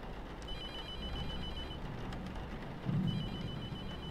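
In the horror game The Mortuary Assistant, a phone rings with a thin, repeating electronic tone over a steady low hum, coming in twice with a short gap between.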